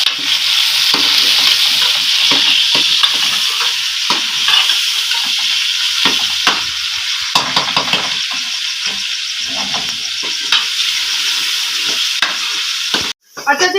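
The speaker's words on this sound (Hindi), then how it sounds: "तो अभी थोड़ी देर जो है हमारा चिकन इसके अंदर भून लेते हैं हम 5 मिनट।" Chicken frying in masala in a pot at home, a steady loud sizzle with repeated scraping stirs, ending with a short clatter and a cut-off.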